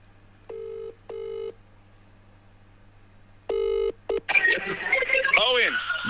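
Telephone call being placed: two short ring tones, a pause, then a longer ring and a click as the line connects, followed by voices talking on the call.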